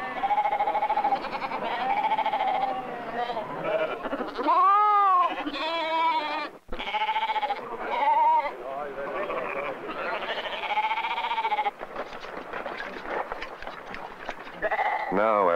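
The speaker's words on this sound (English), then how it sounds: "In the summer, sheep are rounded up to be wormed, treated for sickness, and sheared." Sheep bleating during a summer roundup on the Faroe Islands, several wavering calls rising and falling close by, mixed with a voice talking over the flock.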